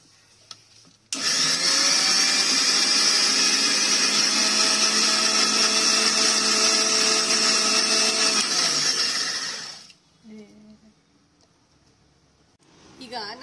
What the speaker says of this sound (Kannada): ಈಗ ನಾನು ಬರೀ ನೀರು ಹಾಕ್ಬಿಟ್ಟು ಇಂಡಿಗೋ ಲೀವ್ಸ್ನ ರುಬ್ಕೊಂಬಂದಿದ್ದೀನಿ